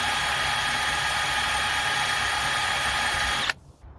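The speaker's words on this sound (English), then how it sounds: "I'm just going to drill this out." A power drill with a 5/32 metal bit whines steadily and loudly for a few seconds, drilling out a seized screw on a Pit Boss 700FB pellet grill, then cuts off abruptly, leaving a quiet background.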